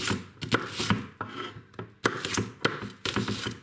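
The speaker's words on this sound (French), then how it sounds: "On va le découper en fines tranches." Knife slicing a peeled onion into thin slices on a board, a run of sharp, evenly spaced chops close up with short pauses between strokes, no voices.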